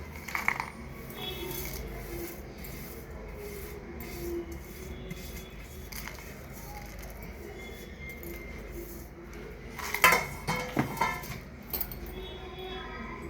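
Roasted ingredients for a red rice dish tipped into a mixer jar: quiet rattling and clinking against the jar, with a brief scrape early on and a louder cluster of clatters near the end over a low steady background hum.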